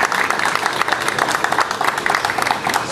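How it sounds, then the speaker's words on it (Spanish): Applause for visitors from Cabo San Lucas at a children's rock storytelling event: lively, close clapping from a crowd with distinct individual claps and a few cheers, loud and steady throughout. "Un aplauso para Cabo San Lucas."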